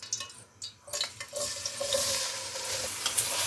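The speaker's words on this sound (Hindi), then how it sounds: "1 मिनट के लिए बस इसके ऑयल में फ्राई कर लें।" An onion mixture hits hot oil left over from frying okra and sizzles loudly, with a spoon stirring and scraping the pan at the start before a steady, building hiss takes over.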